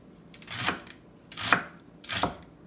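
Organic celery chopped with a knife, three distinct crisp cuts spaced about three-quarters of a second apart, close and clear with no talking.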